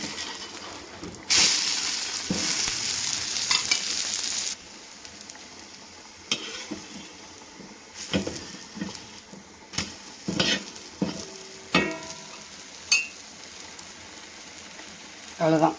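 A drumstick-flower omelette sizzles and fries in a pan, a steady close crackle broken by several spatula scrapes and taps as it is turned. A little talk comes in.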